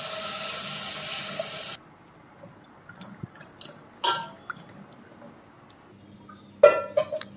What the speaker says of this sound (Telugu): కాడల్ని వాష్ చేసుకుందామండి